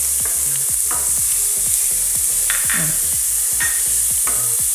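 Sliced onion and green chilli frying in a pan, a dense continuous sizzle with quick spatula scrapes and taps throughout, close and loud.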